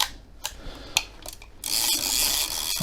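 Film advance being wound on a Yashica EM twin-lens reflex camera with a leaf shutter, heard as a few close, sharp mechanical ratcheting clicks followed by a louder continuous gritty winding rasp.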